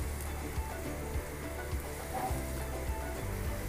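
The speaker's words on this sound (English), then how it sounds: "we're going to saute this for like 2 to 3 minutes" Garlic, onion and red chilies sautéing in a pan, giving a steady soft sizzle and crackle with faint stirring taps, close and alone with no talk.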